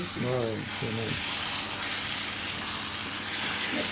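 Drumstick and tomato curry simmering and bubbling in a pan, a continuous soft sizzle and hiss with a few brief voiced sounds near the start.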